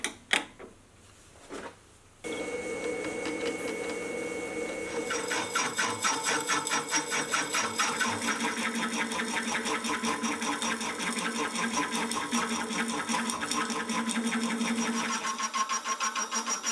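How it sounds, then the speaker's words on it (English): After a few faint knocks, a lathe-driven slitting saw cuts a slot into a steel knurling tool, producing a loud, continuous buzzing whine with a fast rattling chatter that holds steady for over fourteen seconds. "I'll then use a slitting saw to cut a slot, which will allow me to clamp down on the roller arms."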